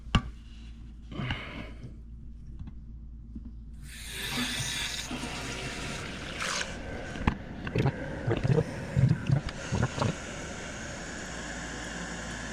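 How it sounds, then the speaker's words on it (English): Water rushes into a toilet tank through a newly installed fill valve on a Kohler Elmbrook toilet, a rising hiss and gurgle with clanks and knocks from handling, heard close with no speech. "turn that fill valve on and see how we're looking"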